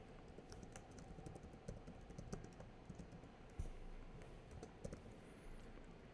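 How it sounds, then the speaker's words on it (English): Typing on a computer keyboard while filling in an address field in accounting software, a faint steady patter of key clicks under a hiss of background noise, with no voice. "I can type in the address name"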